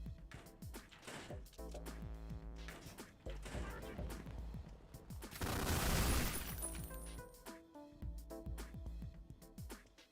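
Turret gunfire in the shooter Ion Fury: bursts of repeated shots over game music and effects, building to a dense, louder barrage in the middle and then easing back to scattered reports.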